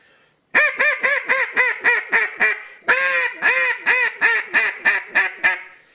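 A Haydel duck call is blown hard and fast in an insistent, fussing run of quacks, two dense bursts of roughly seven to eight loud calls each, close and alone.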